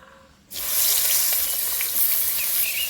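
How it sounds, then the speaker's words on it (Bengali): Eggplant pieces drop into hot oil in a pan while cooking tilapia in mustard curry, bursting into a loud, steady sizzling hiss after a quiet moment and carrying on unbroken. "এবার বেগুনগুলো একটু ভেজে নিচ্ছি"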